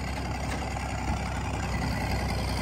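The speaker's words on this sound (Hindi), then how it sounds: "ट्रैक्टर चला रहा भैया" A tractor engine runs at a steady idle, a constant low rumbling drone close by with no pauses and no speech.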